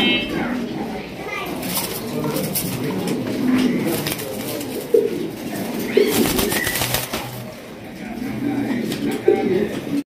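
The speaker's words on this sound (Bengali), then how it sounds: "একদম বড় সাইজের মধ্যে লাল টুকটুকা বোম্বাই কবুতর" Large, deep-red Bombay pigeons coo softly at a pigeon farm, their low murmuring calls recurring under a busy background of voices and children's chatter.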